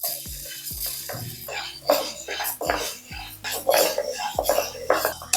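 Dry spice ingredients for a bitter gourd powder being roasted in a pan, with repeated metallic scrapes and stirring clinks of a utensil against the pan, close and moderately loud, with no talk.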